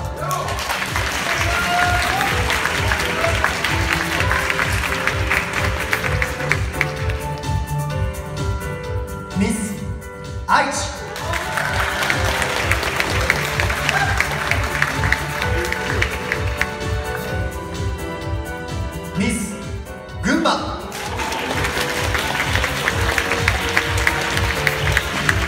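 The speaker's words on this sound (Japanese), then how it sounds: "皆様、大きな拍手を" An audience at a Miss Earth Japan pageant applauding, with long stretches of steady clapping and crowd noise that briefly dip and swell again, loud and filling the room.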